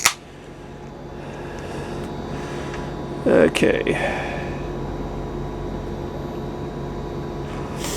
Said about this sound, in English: if you can hear the buzz of the air conditioner behind me